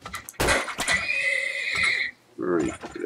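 Horses neigh and whinny in the video game Turmoil, several loud close calls layered with clip-clop hooves, with a brief gap before a final whinny.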